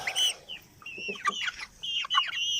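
A gamefowl stag and two pullets cluck and crow close by, with bright, uneven bursts of calls and short pauses in between, and no voices.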